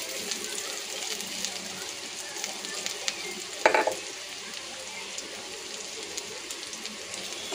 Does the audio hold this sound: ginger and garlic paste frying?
yes